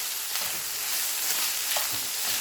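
Ground meat with taco seasoning sizzles and crackles in a hot pan while being stirred, a loud continuous frying hiss with occasional scraping stir sounds and no talking.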